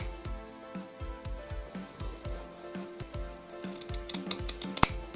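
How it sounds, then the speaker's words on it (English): Scissors snip through fabric corners of a place mat in a steady run of short crisp cuts, close by, followed by a few sharper clicks near the end. "we literally just take some scissors and chop like that"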